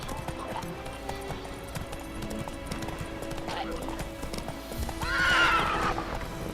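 A horse's hooves clip-clop steadily in The Witcher 3 video game, close and rhythmic, ending with a loud neigh; someone speaks briefly over the game sound.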